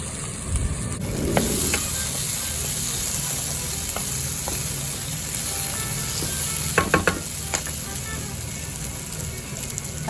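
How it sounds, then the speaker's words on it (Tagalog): Vegetables for Japanese curry sizzle steadily in a hot pan as they are sautéed, with occasional stirring scrapes and clicks and a voice talking softly over the frying. "Sangkutsa muna natin ang ating vegetables."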